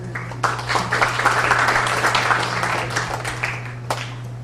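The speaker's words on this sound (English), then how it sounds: "A round of applause for her." An audience applauds for a project manager being introduced at a UNIID Southeast Asia event, with steady clapping that swells for a few seconds, then thins to scattered claps.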